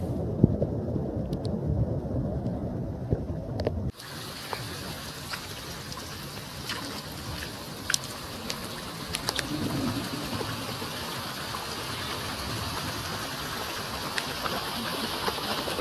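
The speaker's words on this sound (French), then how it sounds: "C'est complètement la folie avec cette pluie qui tombe, cette pluie et cet orage." A heavy downpour falls on a park during a thunderstorm. After a muffled opening the steady hiss of rain suddenly fills the scene, with scattered close drops and taps on top.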